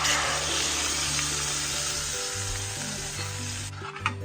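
Buttermilk batter for mor kali, seasoned with asafoetida, hits hot oil in a pan with a steady, loud sizzling hiss that holds throughout, with low hum underneath and a slight shift near the end.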